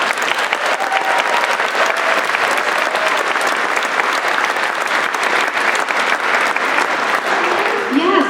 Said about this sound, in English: I think we should give you a round of applause for that.